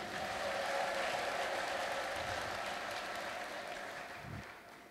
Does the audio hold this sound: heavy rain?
no